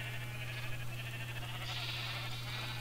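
Sheep in the Minecraft video game give a faint, thin bleat partway through, set against a steady low hum and background hiss, with no talking.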